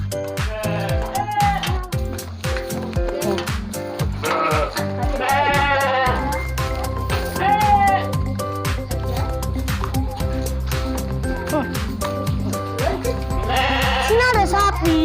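Sheep bleating near a cattle pen beside a river on a farm, several calls rising over dense, loud background music with people talking.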